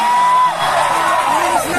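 A crowd at an outdoor programme shouts and cheers in a single loud burst of mixed yells and whoops, close and sustained for under two seconds.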